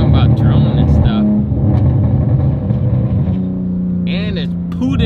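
A 1000-horsepower Ram TRX pickup truck idles and revs with a loud, deep engine rumble, while people talk close by over the engine.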